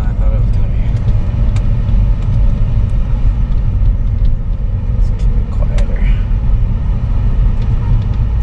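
A car engine idles steadily close by, a constant low rumble with faint ticks, while someone talks over it.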